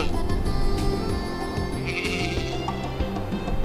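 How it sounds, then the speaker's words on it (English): A ram bleats in a loud, wavering, nasal call close up, with a second higher cry partway through, over a steady backdrop of cheerful background music. "This is a ram."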